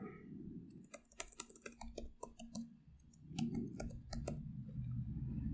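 Computer keyboard typing in quick irregular bursts of clicks, close and moderately loud, with short pauses between runs, over a low steady hum.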